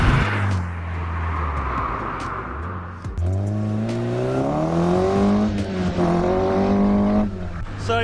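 A Mazda MX-5 Miata NB, a standard 140 model, drives on a test run with a loud engine note that rises through the gears, falls back at shifts, and climbs again.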